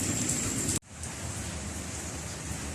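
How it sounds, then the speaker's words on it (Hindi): Rain falls outside with hail after a storm, heard as a broad, steady hiss that cuts off abruptly and then returns slightly softer and duller, as if a window were shut. "बाहर जो है बारिश हो रही है"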